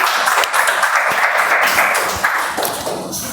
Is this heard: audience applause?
yes